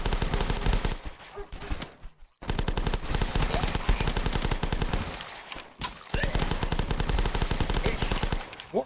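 Rapid automatic gunfire in a video game, long sustained bursts broken by a couple of short pauses, loud and close throughout.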